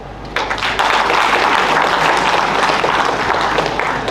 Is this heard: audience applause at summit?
yes